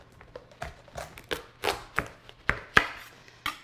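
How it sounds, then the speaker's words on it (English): Sharp knife cutting through a spaghetti squash, a series of close, crisp cracks and thuds coming in irregular bursts as the blade works through the hard shell. "So start in the middle with a sharp knife and cut all the way through."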